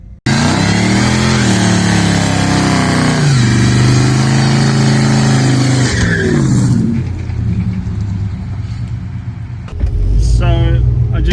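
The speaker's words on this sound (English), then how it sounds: "So, I just did a skid for Stu as a send-off." An LS V8-powered Ford wagon doing a burnout in a residential street, its engine held at high, wavering revs with tire roar for several seconds before dropping to idle and briefly revving again.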